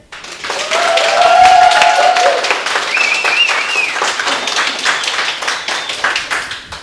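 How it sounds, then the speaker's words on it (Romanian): A studio audience at a comedy show semifinal gives loud, sustained applause with some cheering voices mixed in, rising quickly and holding steady to the end. "o să vă rog să faceți gălăgie și aplauze pentru Ștef"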